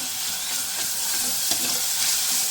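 Garlic, ginger and shallot paste fries in a pan while being stirred, giving a steady, loud sizzle and hiss with soft scraping strokes throughout, no voices.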